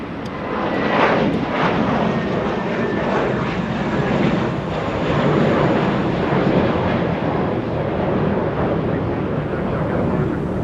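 A JetBlue Airbus A319 jet departs Los Angeles International Airport bound for New York JFK, a loud, steady broadband engine roar that swells and holds for the whole stretch, near and continuous with no voices over it.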